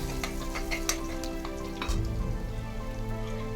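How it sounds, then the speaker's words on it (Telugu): Garlic, onion and tomato fry in oil in a pan, a dense continuous crackling sizzle with occasional sharper pops and stirring, close and steady. "ఒక పెద్ద ఉల్లిపాయ, ఒక పెద్ద టమోటో, చిన్నగా కట్ చేసుకున్న వెల్లుల్లి రెమ్మలు ఒక 5 వేసుకొని దూరగా వేయించుకోవాలి"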